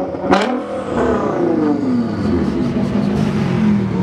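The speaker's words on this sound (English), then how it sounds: "Want to give it a rev?" A Nissan GT-R engine revs hard and loud close by, climbing in a sweeping pitch rise and holding a raspy high-rpm roar with crackles over the full four seconds.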